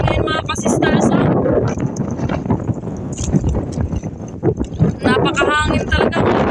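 Strong amihan wind at a seaside picnic roars steadily into the microphone with loud buffeting, while people talk over it throughout.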